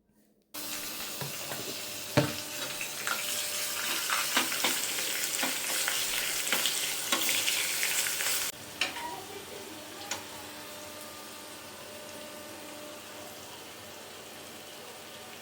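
Curry leaves, cumin and mustard seeds fry in oil with a loud, crackling sizzle and scattered pops, then settle into a quieter, steady hiss for the rest of the stretch.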